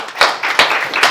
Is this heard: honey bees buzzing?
no